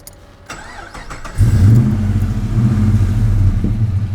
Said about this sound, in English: kick it in the guts, listen to the beautiful engine